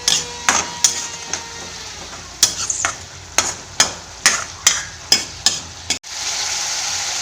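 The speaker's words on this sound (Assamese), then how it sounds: "এয়া মই এতিয়া ৩-৪ মিনিট এনেদৰে ভাজি থাকিম লৰাই লৰাই।" Spinach with turmeric and salt is stir fried in a pan, with a series of sharp, rhythmic scraping strokes over a steady sizzle. A louder, continuous frying hiss takes over near the end.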